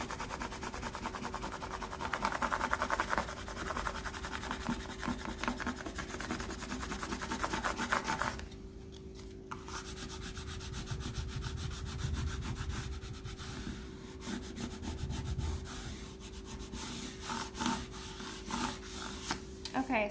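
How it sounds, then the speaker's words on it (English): A plastic tray scrapes steadily over contact-paper stencil laid on a wooden porch planter, a continuous close rubbing and sanding-like hiss with a brief pause partway through before it resumes. "I'm going to start from the center out and just rub it down, and then I'm going to go back with the tray, give it that hard edge rub"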